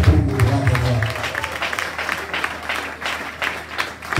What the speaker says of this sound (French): acclame encore très fort pour le roi